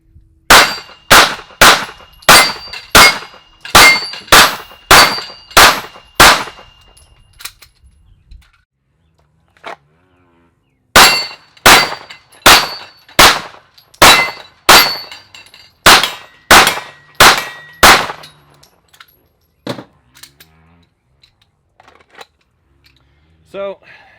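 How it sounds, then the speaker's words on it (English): A Sig 226 pistol fires rapid strings of shots with each round ringing off steel targets. Two fast, evenly spaced runs of about nine to ten sharp cracks with bright metallic rings, separated by a pause, then a few scattered taps. "we're going to drop a few more rounds out and see if we can speed it up a little bit more without some misses"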